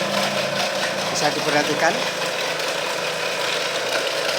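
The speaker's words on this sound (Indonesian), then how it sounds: "kita hidupkan dan mesin akan berputar" An automatic ice cream making machine runs with a steady mechanical hum and rattling whir, close and continuous, while a person talks briefly over it.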